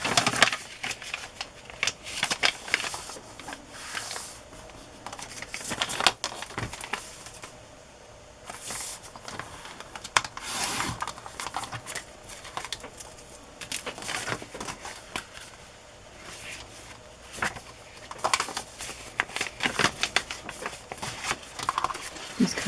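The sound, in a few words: paper pages being trimmed for journals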